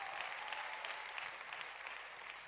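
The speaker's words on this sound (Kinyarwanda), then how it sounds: "Ayo mashyi ya Yesu uruta bose" A church congregation claps in praise of Jesus, a steady, dense patter of many hands sustained without a break, fairly distant and moderately quiet.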